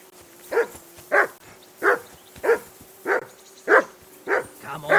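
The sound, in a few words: dog barking in the video game Kingdom Come: Deliverance 2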